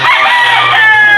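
A rooster crows loud and close on a small farm in Rizal, one sustained harmonic call carrying across the whole moment.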